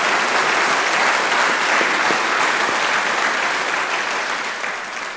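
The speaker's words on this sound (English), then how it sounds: "another round of applause for Colonel Jim Green" Loud, dense audience applause at a Veterans Day event honoring a retired colonel, steady clapping from a large crowd that tapers slightly at the end.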